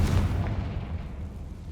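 Confringo blasting spell from Hogwarts Legacy detonates in a single loud, low boom right at the start, then rolls off into a sustained rumbling tail that fades slowly.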